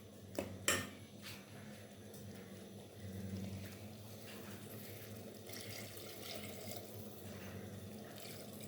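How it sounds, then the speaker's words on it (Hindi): Water pours steadily into a pan of bhuna chicken cooking on the stove, a soft continuous liquid wash with a couple of sharp clinks of the pan near the start. "थोड़ा सा पानी डालूँगी ताकि ये गल भी जाए और इसकी ग्रेवी भी बन जाए"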